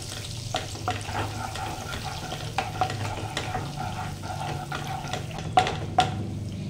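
Butter melts in a pan over a very low gas flame while being stirred, giving a steady soft sizzle with scattered scraping and clinking taps of the spoon against the pan.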